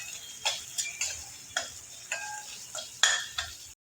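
Paste made from two medium onions sautés for paneer butter masala, giving soft, rhythmic scraping and stirring strokes about every half second over a faint sizzle, then stopping abruptly.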